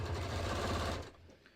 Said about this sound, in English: I'm just stitching along